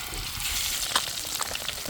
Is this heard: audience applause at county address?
no